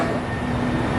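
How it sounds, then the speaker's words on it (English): A light rail train arrives at a station with a dense, loud, steady rumble of wheels and motor and a faint tonal whine, with no voices. "here comes the train"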